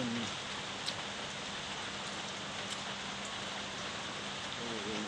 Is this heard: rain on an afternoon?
yes